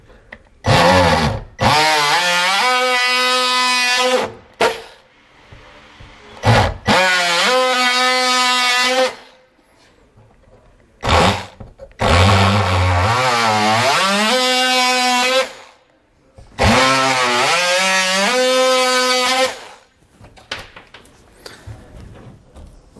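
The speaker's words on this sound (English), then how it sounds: "I'll cut that out with my multi-tool" An oscillating multi-tool buzzes loudly in four long bursts, its whining pitch wavering as it cuts a hole in an RV ceiling, with short pauses between passes.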